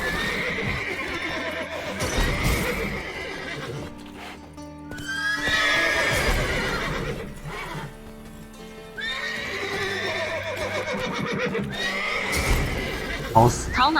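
Horses in The Witcher 3 neigh and whinny loudly several times, with hooves clip-clopping and shifting nearby between the calls, over a steady game ambience.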